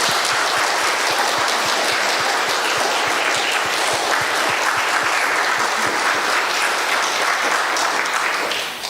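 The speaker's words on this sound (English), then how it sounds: "let's thank them by giving them another round of applause." Sustained audience applause, steady and dense with many hands clapping, filling the whole stretch without a break before tapering slightly at the end.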